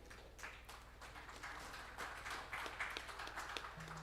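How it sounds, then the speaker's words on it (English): Clapping from a large audience at a tech summit for India's STPI Foundation Day, a steady dense patter of many hands held at moderate level across the whole stretch, fairly distant, with a faint low hum underneath. "A huge round of applause"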